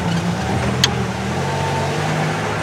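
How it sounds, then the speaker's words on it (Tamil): A jeep drives along a forest safari track, its engine giving a steady, loud, close drone with no break and only a faint knock partway through. "இப்படியே தான் வண்டி போயிட்டு"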